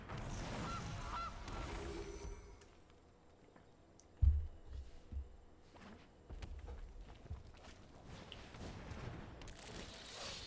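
A goose honks repeatedly in a video game, sharp bursts rising over a busy, noisy game background with footstep-like thumps.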